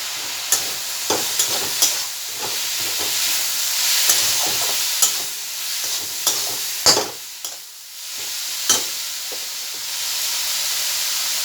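Greens with pointed gourd and green chilies cooking in a pan, giving a steady close sizzle and hiss broken by repeated sharp scraping and clinking strokes of a stirring utensil.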